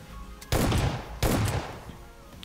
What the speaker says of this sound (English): that's a lot of gunshots